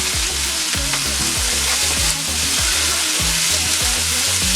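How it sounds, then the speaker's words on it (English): Chopped vegetables sauté in a hot pan, a steady loud sizzle with the clatter and scrape of tossing running through it, with no talking. "And we're going to saute this."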